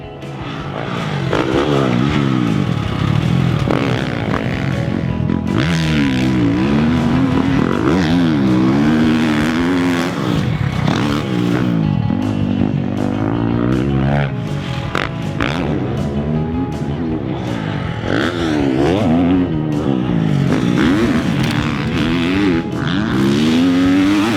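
A 2020 KTM 350 SX-F dirt bike races around a motocross track, its loud four-stroke engine repeatedly revving up and down through the gears and passing close by in rising and falling waves.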